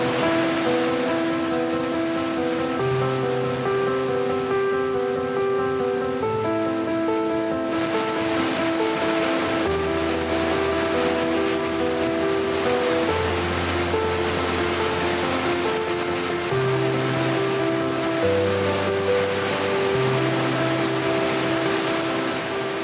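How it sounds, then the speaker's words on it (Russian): A glacial waterfall drops thirty metres on a trek toward Nanga Parbat in Pakistan, a constant broad rushing roar of falling water held steady beneath prominent music. "Падающая вода с 30-метровой высоты очищает не только тело"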